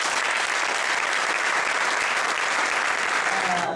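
At an architecture award ceremony, the audience breaks into a dense, even wave of applause that holds steady throughout and then cuts off abruptly at the end.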